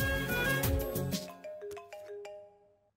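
A phone ringtone plays a short descending electronic melody in a Telugu movie scene, with bright chiming notes fading away over a few seconds and no speech.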